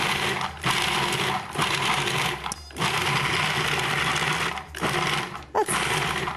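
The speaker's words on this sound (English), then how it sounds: "we put all that in our food processor and we'll process it" Food processor blending parsley and mint leaves, loud whirring bursts broken by several short pauses, close and with no talking.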